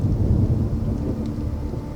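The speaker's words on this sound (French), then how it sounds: "La pluie tombe sans arrêt." A brief stretch of continuous heavy rain on a rainy evening, a steady wash of sound with a low thunder rumble underneath, no voices.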